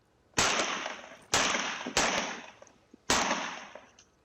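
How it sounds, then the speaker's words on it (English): Four sharp gunshots from a second shooting location a few blocks from a California mosque, fired in irregular succession, loud and fairly close, each with a short ringing decay, with no talking. "After multiple shots, the car takes off."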